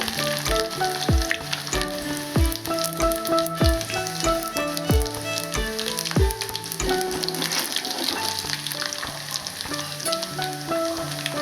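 Two dried red chillies, onion pieces and tempering spices in heated oil, giving a continuous bright sizzle and crackle under rhythmic background music.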